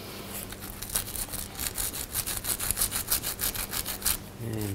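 Rapid back-and-forth scrubbing on the rusty starter cable of a 2000-06 GMC Yukon, a quick rhythmic run of close, fairly quiet rasping strokes.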